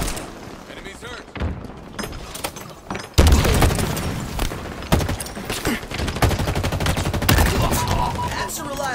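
Gunfire in the video game Halo Infinite, with dense bursts of automatic fire and heavy booming impacts building into a loud, continuous barrage, and a voice speaking over the action.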